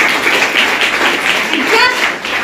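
Audience clapping at an Ok Life Care training event in Kaimur, Bihar: a short, dense burst of applause from a nearby crowd, steady and loud throughout.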